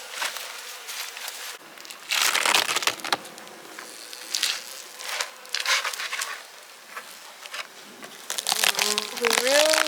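Honey bees cluster and buzz around an open hive, a close, busy insect drone broken by crackling handling noises and sharper bursts as individual bees fly past.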